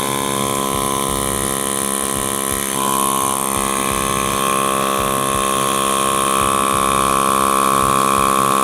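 The pump motor of an electric knapsack sprayer tank runs in direct mode, a loud, steady whine with a sustained tonal hum that shifts pitch slightly partway through and then holds constant.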